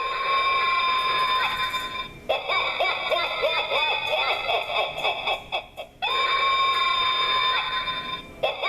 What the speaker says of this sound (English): let me press the alarm because you're going to love this